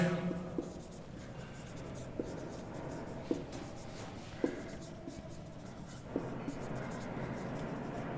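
Chalk or marker strokes scrape across a classroom board as a geometry theorem about circle tangents is written out, with sharp tapping accents at intervals over steady scratching and faint room noise.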